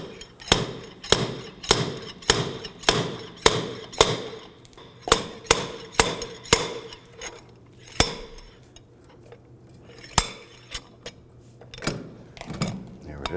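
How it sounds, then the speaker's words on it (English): A slide hammer pulls a stuck rear brake drum on a 2008-2011 Ford Focus, sharp metallic clanks striking in a steady rhythm, about one per half second, then slowing to scattered single hits. "we ended up installing our slide hammer because we could not get our drum off"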